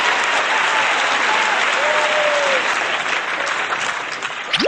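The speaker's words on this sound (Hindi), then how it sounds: "तो जोरदार तालियों के साथ स्वागत कीजिए" An audience at a school Republic Day program applauds to welcome a class 7 poetry performer, a loud, dense, sustained clapping that fades slightly toward the end, with no talk over it.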